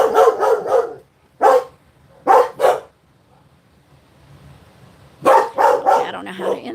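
Several dogs barking in short bursts, loud and close, with a lull between volleys and a cluster of yips at the end; a voice is heard faintly around them.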